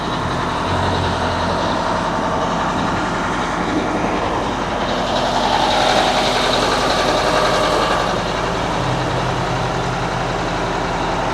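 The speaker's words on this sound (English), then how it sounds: "This is the quietest two-stroke I've ever heard." A Detroit 8V92 two-stroke diesel with factory mufflers between the frame rails idles steadily in a 1982 Ford LTL 9000 truck with 488K miles, a smooth, even, fairly quiet rumble heard up close with no talking.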